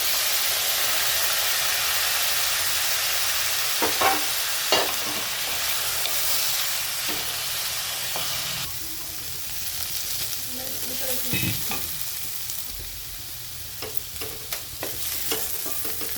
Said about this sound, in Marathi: आता आपण गॅस पिटून कढई ठेवले आणि थोडंसं तेल टाकून घेतलं आहे आधी ना आपल्याला चक्कीला परतून घ्यायचं आहे